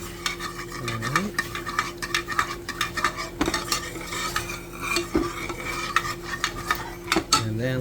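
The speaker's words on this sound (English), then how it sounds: "We're going to add in the the milk, and stir that up." A utensil stirs milk into melted butter in a pot for Kraft macaroni and cheese, with repeated close scraping and clinking against the metal pan and a soft sizzle underneath.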